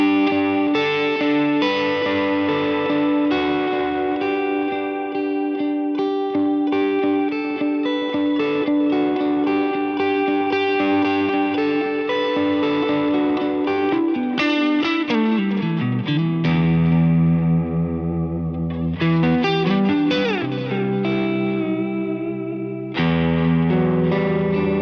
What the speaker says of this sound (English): I'd always use this amp because of the way that it drives the delays